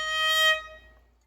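A single bowed violin note rings bright and slightly sharp-sounding, then cuts off and decays over about a second.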